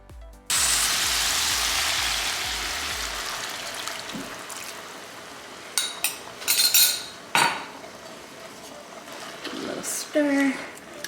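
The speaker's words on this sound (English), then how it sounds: "Stir." Sauce being stirred into a weeknight dinner in a pan, a steady wet scraping and sloshing with a few clinks of a utensil against the metal, close and fairly loud, ending in sharper taps.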